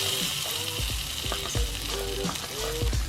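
Salted egg is stirred into garlic in a pan, giving a soft, continuous sizzle with repeated knocks and scrapes of a spatula.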